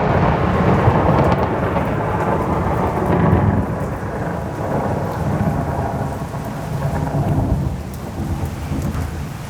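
Loud thunder rumbles through a thunderstorm over steady heavy rain, the low roll swelling and easing across the whole stretch with no voices.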